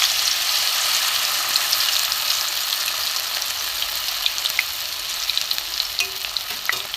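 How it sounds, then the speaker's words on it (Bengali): Lentil-coated prawn and bottle gourd leaf paturi fry in hot oil with a steady, bright crackling sizzle, scattered pops and spits rising near the end, close up with no voices. "নিয়ে বন্ধুরা আস্তে আস্তে আমি তেলের মধ্যে, দেখুন তেলের মধ্যে আমি ছেড়ে দেব"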